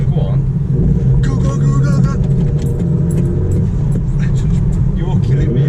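A Vauxhall Corsa D with a performance air filter is driven at full throttle in second gear, its engine a steady loud drone and rumble filling the cabin throughout, with people talking over it.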